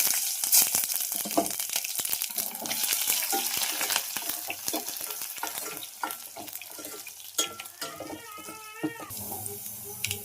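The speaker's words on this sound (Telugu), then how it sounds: "తాలింపులోకి కూడా మొత్తం రెడీ చేసుకున్నా. ఆయిల్ కూడా బాగా వేడైంది," Curry leaves and tempering spices sizzle and crackle in hot oil for a home-cooked cabbage dal, a close, busy frying hiss with sharp pops and stirring clatter.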